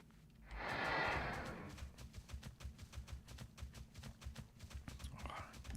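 Steady rhythmic clip-clop of a horse mount's hooves from WoW Classic trots on continuously through the whole stretch, with a breathy whoosh near the start and a soft burst near the end.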